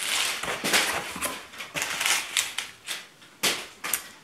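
Packaging paper rustling and crinkling as a full grain leather clutch wallet is unboxed, close and loud, in repeated sharp bursts a fraction of a second apart, with no talk.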